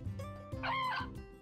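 A farm rooster in the video game Story of Seasons gives a quick, close clucking call, one short burst with a brief crow-like rise in the middle.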